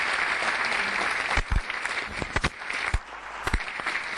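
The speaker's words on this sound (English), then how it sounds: "Let's give him a very warm round of applause once again" An audience at a talk on finance in India claps in a sustained round of applause, with a steady dense patter and several sharper nearby claps standing out, and no speech.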